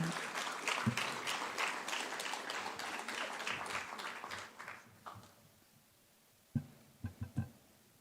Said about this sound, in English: With a very big round of applause, please help us welcome up on stage Dr. Ida Opoku-Mensah